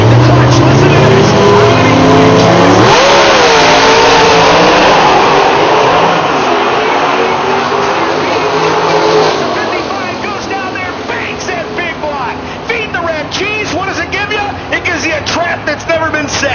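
A big old Chevy gasser and a Mustang launch in a PDRA drag race at Rockingham, engines roaring loud and close with a rising revving sweep, then a long fading roar over crowd babble and an announcer.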